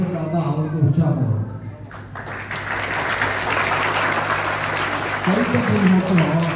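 Audience applause at an iftar fast-breaking gathering, a dense wash of clapping that swells in after someone speaks through a microphone, with his voice returning over the tail end.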